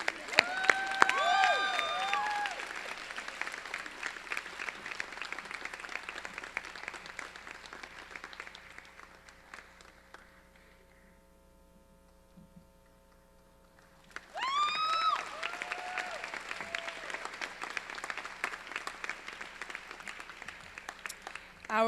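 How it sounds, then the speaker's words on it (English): A crowd applauds an award winner at a graduation ceremony, loud dense clapping with cheering that fades to near quiet midway, then surges back just as strongly for the rest. "Keep on clapping."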